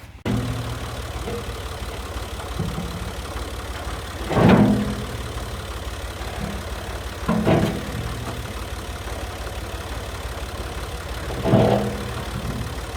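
A tractor engine idles nearby with a steady low, constant rumbling drone, broken by a few louder clanking bursts.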